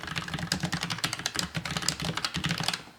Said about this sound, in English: if you're typing really fast, it's going to sound even louder